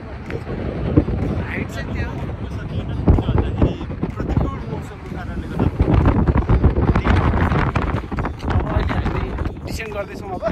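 Cold wind buffets the microphone on a snowy hike up Bear Butte, a loud, steady rumbling gust throughout, with people talking over it.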